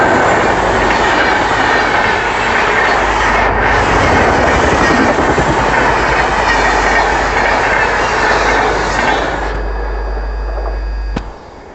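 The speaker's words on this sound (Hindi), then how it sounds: "अब मैं आपको दिखाऊंगा ओवरटेक जो हमें पड़ेगा भोपाल शताब्दी के द्वारा" The Bhopal Shatabdi express thunders past at close range, a loud, sustained roar of rushing wheels and carriages clattering by for several seconds before it abruptly cuts away, with no voices.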